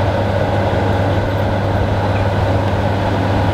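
A Class 37 diesel locomotive rumbling steadily with a deep, continuous low engine drone, loud and close, no voices.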